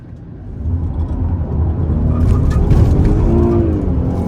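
A 2020 GMC Acadia SLT in sport mode accelerates hard, heard from inside the cabin. The engine's rising rumble and whir swell steadily louder over a few seconds, with no talking.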